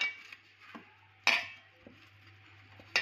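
A spoon scrapes and clinks against a bowl while fish is mixed with spices, giving a few sharp metallic taps spread among softer stirring sounds, close and fairly quiet.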